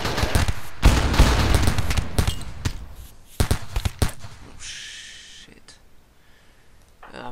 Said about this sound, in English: That is a couple of frag grenades.